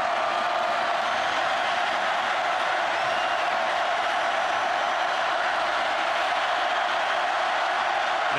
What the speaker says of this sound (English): Now the bench at LSU asking the crowd to stand up and make more noise.